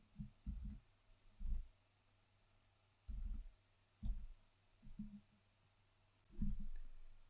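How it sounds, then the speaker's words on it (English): A few sharp mouse clicks at uneven intervals, each a short low thump with a faint high tick, quiet and close in an otherwise silent room while a sag check button is pressed in optical design software. "I can easily do that by clicking the sag check button"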